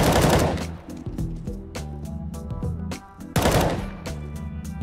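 Rapid automatic gunfire from the game CS:GO, loud bursts of sharp shots with brief pauses, a fresh heavy burst near the end, no talking over it.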